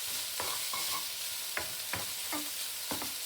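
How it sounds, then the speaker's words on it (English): Frittata ingredients are stirred around a hot pan, a constant sizzle broken by repeated scraping strokes of a utensil against the pan surface at an irregular rhythm, close and moderately loud. "So just keep continuously moving it in the pan"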